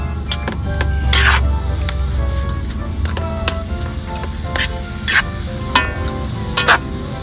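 Pancit bihon rice noodles stirred and tossed in a frying pan, with a steady sizzle and repeated scraping, clattering strokes of a utensil, close and fairly loud.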